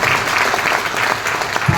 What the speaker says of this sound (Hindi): ताली बजाना है तो थोड़ा अच्छे से बजाइए भाई।